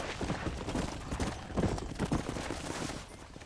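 A horse gallops away on a ranch, hooves pounding in a quick rhythm that is fairly loud and close at first and fades slightly at the end, with no talk over it.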